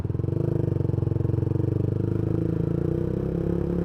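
A Yamaha MX King 150 motorcycle with a custom exhaust idles close by. Its low engine note pulses steadily and evenly throughout, with no voices over it.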